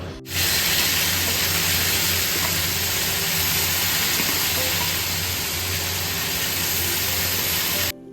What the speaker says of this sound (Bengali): ওদিকে শিম ভাজা বসে গেছে আর এখানে ফুলকপির জন্য আলুগুলো ভাজা হয়ে গেছে